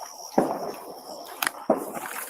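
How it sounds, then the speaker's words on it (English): Fireworks bursting outdoors, heard as two sharp distant pops with a faint crackle between them, set against a steady background hiss. "What is that? I think fireworks."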